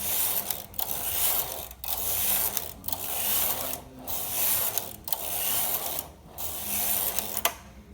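A Brother knitting machine carriage slides across the needle bed, knitting rows in repeated mechanical rasping passes about a second long, each separated by a short pause, loud and close.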